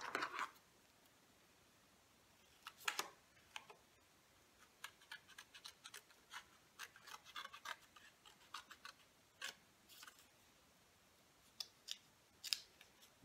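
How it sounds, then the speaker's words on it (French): Scissors snipping through paper card for a scrapbooking pop-up card, a series of faint, close, crisp cuts spaced irregularly across a quiet room. "vous allez prendre vos ciseaux et on va couper cette partie-là sur les 3"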